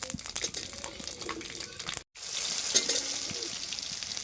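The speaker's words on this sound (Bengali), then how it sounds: "ফোড়ন দেবে এখন, শুকনো লঙ্কা 5 ফোড়নে, তেজপাতা শুকনো লঙ্কা সব ভেজে নিচ্ছে" Dried red chillies, bay leaves and five-spice tempering sizzle and crackle in hot oil while being stirred, a close, steady frying hiss with a brief cut partway through.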